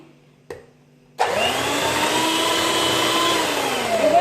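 An electric beater whirs loudly and steadily as it mixes butter with powdered sugar for nan khatai biscuits, starting abruptly after a brief knock and then running in a constant, close hum.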